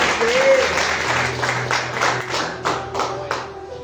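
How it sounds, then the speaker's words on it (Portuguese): A Pentecostal church congregation claps in praise, steady rhythmic hand claps mixed with voices and a sustained low musical tone underneath. "E que as palmas louvem o nome santo do Senhor Jesus."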